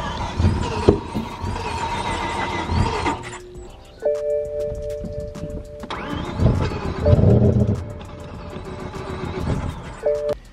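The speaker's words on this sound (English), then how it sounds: "it sounds like the car starts and it cuts off again" BMW M5 engine cranking, catching and cutting off again, a car engine turning over and briefly running before dying, with a pause, beeping tones and a second crank, close and loud.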